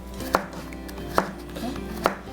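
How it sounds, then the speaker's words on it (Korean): A knife chops through salt-soaked bitter melon (yeoju) on a cutting board, three sharp, evenly spaced thuds about a second apart, close and alone. "우리가 한번 썰어 볼 건데"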